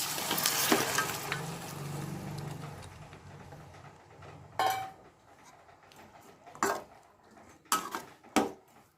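Cooked mutton drops into a pan of frying garlic masala, with an initial loud sizzle that fades, then several sharp clanks and scrapes of a spoon against the pan.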